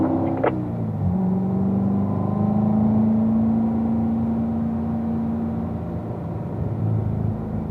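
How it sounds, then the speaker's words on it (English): A race car on a track climbs back up through the gears, its engine note rising steadily and rumbling loud and continuous throughout, with no talk over it. "All right, Glenn, going to work the way back up to speed here, back up through the gears."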